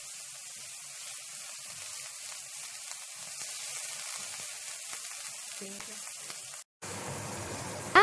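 Minced pork sizzles and crackles steadily in hot oil in a wok, a continuous bright frying hiss, while winter melon with minced pork is being cooked Cantonese home style; a brief clatter breaks in near the end.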